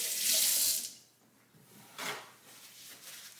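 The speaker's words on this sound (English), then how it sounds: "Wash my hands again." A kitchen tap runs into a sink as hands are washed between steps of making crockpot recipes: a loud rushing burst for about a second, then a quieter second splash a moment later.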